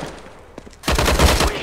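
A rapid burst of AUG rifle fire in Call of Duty erupts after a quieter stretch with a few scattered shots, the automatic fire loud, close and steady to the end.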